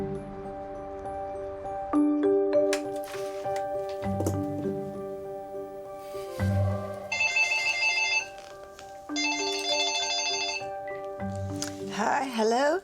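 A telephone rings in repeated electronic bursts over background music, with a brief pause between the two main rings before the call is answered.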